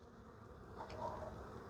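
Honey bees buzzing softly and continuously around an opened hive package during installation, a faint, close, steady hum with no talk.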